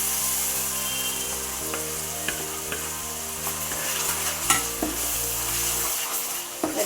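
Tomato paste sautéing over low flame in a pan of ginger-garlic chicken masala for chicken bharta, a steady close sizzle with soft scraping stirs and occasional spoon clicks against the pan.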